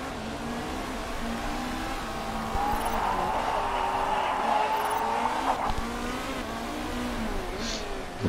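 Race car engines from Motorsport Manager drone and rev continuously with rising and falling pitch, one car following a quicker Ferrari, loud and steady throughout.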